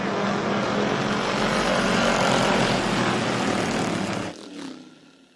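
A field of Ford Crown Victoria race cars roars loudly together at the start of a race at Jennerstown Speedway. The dense engine noise holds steady, then drops away sharply near the end as the cars pass.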